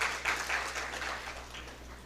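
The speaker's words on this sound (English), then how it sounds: "I think that deserves a round of applause also." Audience applause at the launch of a woodworking apprenticeship programme: a steady wash of clapping that is strongest at the start and gradually thins over about two seconds.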